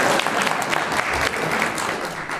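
Audience applause follows a poetry reading, a steady wash of clapping from a room of listeners that holds for a few seconds and tapers slightly toward the end.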